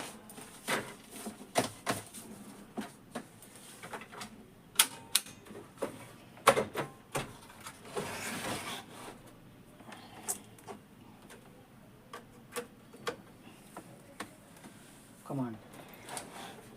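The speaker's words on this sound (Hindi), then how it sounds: "अब इसको देखते हैं कि चेंज करने के बाद हमारा जो प्रिंटर है प्रॉपर काम कर रहा" A Canon LBP 2900 laser printer runs after its paper pickup gear is replaced, giving a series of sharp mechanical clicks and clacks with a brief whirring stretch midway, faint and close, while a person talks quietly.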